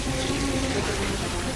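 Water from a fire hose sprays in a steady, loud, continuous rush, a firefighting scene with the spray filling the whole moment without pause.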